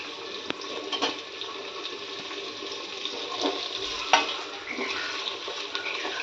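Vertically sliced tomato frying in hot oil with green chillies for chicken biryani, a steady broad sizzle running throughout with a few sharp clinks of a spoon stirring the pan, close and alone without any talk.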